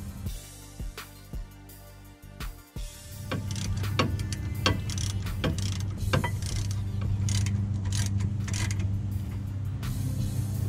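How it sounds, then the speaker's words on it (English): Ratchet with an 18 mm socket tightening brake caliper bracket bolts on a 2006-2010 Dodge Charger rear brake: quick ticking clicks at the start, then a steady mechanical rattle and whir close by with no talk. "install the two bracket bolts with the 18 millimeter socket and ratchet"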